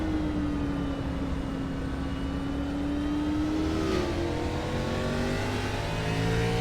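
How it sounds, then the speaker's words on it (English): A race car engine at Sonoma Raceway sweeps past overhead, its steady whining drone sliding down in pitch as it passes, heard alone with no talk. "you could hear the engine fly overhead"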